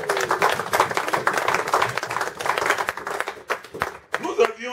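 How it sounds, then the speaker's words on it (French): Church congregation at a Strasbourg service clapping for the Lord, a dense patter of hands that runs through most of the moment, mixed with voices and crowd noise, then fading out near the end. "Est-ce que quelqu'un peut applaudir pour le Seigneur?"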